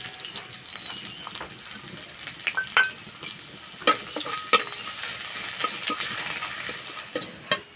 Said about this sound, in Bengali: তেলে দেবো পেঁয়াজ কুচি